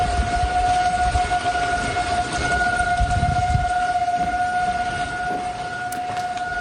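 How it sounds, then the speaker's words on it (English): Tornado sirens sound in the early morning in Woodstock, North Georgia, during the Easter 2020 tornado outbreak, a steady, loud civil-defense wail held on one pitch over a bed of rain and wind, with no voices. "And tornado sirens blaring in the early morning in North Georgia."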